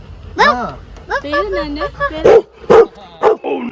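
A dog whines and yips, then gives several sharp barks in quick succession, close by, with people talking over it.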